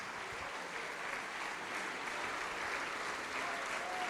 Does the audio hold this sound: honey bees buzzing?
no